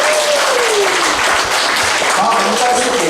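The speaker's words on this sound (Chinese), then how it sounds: "好，我们再次给第三、第四首很大的掌声啊！" Church leadership training gathering audience applauding steadily and loudly for the whole stretch, a dense wash of clapping with a voice faintly underneath.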